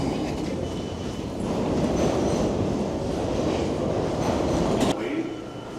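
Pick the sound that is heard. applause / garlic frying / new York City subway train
new York City subway train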